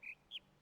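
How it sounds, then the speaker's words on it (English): A bird in The Witness puzzle video game gives three short, clear, high whistled chirps, spaced apart and fairly faint over a quiet background. "You can hear the bird beeping right now, tweeting."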